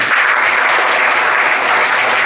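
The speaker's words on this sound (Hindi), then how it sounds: "फिर से एक बार जोरदार तालियां।" Loud, steady applause from a school audience at a magic show, dense continuous clapping filling the whole stretch with no talk over it.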